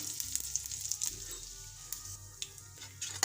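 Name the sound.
curry leaves and spices sizzling in hot oil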